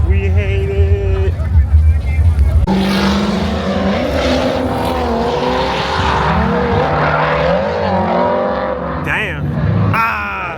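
At a car meet, a drifting car roars with high revs and tire squeal, engine tones sweeping up and down under a crowd's chatter and nearby talking.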